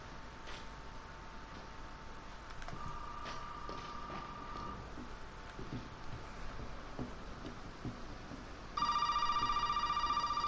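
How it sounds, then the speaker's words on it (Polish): A phone rings inside the GTA V Online video game, a bright electronic ringtone that starts near the end and plays loudly over a steady background of game ambience and faint effects. "Tak, telefon teraz dzwoni."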